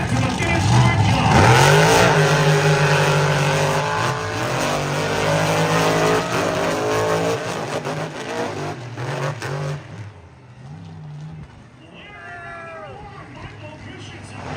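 Monster trucks race on a beach track, with loud, continuous engine roar and revving that rises and falls as they pass close by and fade at the end, while an announcer talks over the racket.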